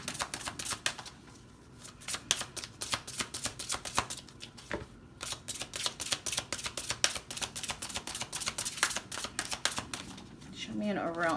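Tarot cards being shuffled by hand in a rapid riffling, flapping rhythm that continues almost without pause, close and crisp, with a brief softer gap partway through.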